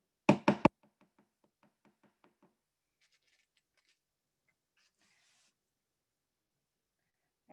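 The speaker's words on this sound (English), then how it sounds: "I'm just going to hammer those guys in the corner." A hammer drives push pins into the corners of a paint-pour canvas: three loud, close knocks in quick succession, then a run of faint, evenly spaced light taps, with no one speaking.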